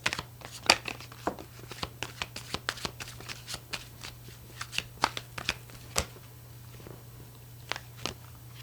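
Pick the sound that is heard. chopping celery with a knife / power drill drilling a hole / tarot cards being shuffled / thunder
tarot cards being shuffled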